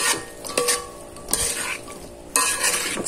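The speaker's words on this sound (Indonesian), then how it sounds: "Bakwane tak goreng." Bakwan vegetable fritters fry in a pan with a continuous oil sizzle, broken by a few sharp clinks and scrapes of a utensil stirring.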